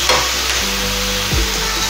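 Sausage sautéing in a pan, a loud dense sizzle with stirring throughout and a brief low knock near the end, no talk.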